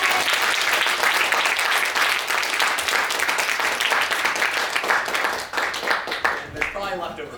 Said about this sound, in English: Everyone, let's give one last round of applause.